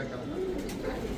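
A prize-winning racing pigeon gives a short, low coo close by, brief and soft against a quiet room background.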